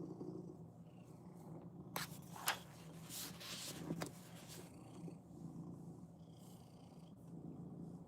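A cat purring close by, a low steady rumble under a few brief rustling and scratching noises, quiet overall.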